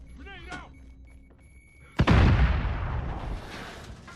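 A grenade in Call of Duty Modern Warfare detonates with a sudden, heavy boom halfway through, followed by a long rumbling, bass-rich tail, after a short stretch of quieter game sounds and speech.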